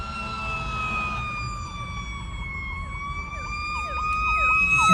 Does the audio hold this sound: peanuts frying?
no